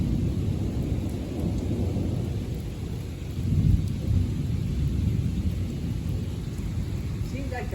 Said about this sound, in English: The rain has definitely lightened up. The lightning, I can't say the same.